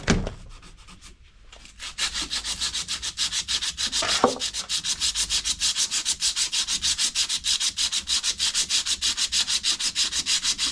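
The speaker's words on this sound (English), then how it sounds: "That is a wee rub down with some emery cloth." Emery cloth is rubbed briskly back and forth over a Willys MB Jeep steering knuckle, a rapid, regular scratchy rasp repeating many times, close and steady after a short pause with a faint knock.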